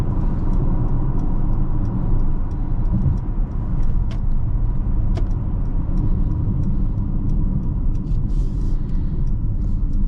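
A 2023 Mercedes-Benz GLC43 AMG accelerating hard on a test drive: a loud, continuous low engine drone and road rumble heard from inside the cabin, with occasional faint clicks above it and no talking.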